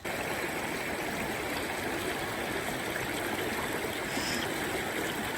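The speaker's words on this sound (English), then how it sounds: "love the sound of the water" A stream flows beneath a bridge on a mild spring day, heard as a steady, dense rush and trickle of water that holds continuously throughout, with no voices.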